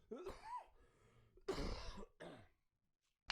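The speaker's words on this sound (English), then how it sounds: "trying to stifle a cough here" A person coughs and clears their throat several times in a row, the sounds muffled and held back, close and fairly quiet.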